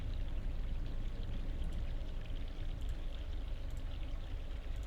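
Fresh mountain stream water in The Longest Journey, flowing in a steady, fairly loud pouring rush with faint drips and splashes, running continuously and alone.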